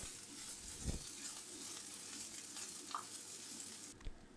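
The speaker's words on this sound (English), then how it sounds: "Add your sliced shallot and saute until fragrant, about 30 seconds" Sliced shallot sautéing in hot oil in a pan, a soft steady sizzle running throughout with a brief louder clatter near the start and a short knock near the end.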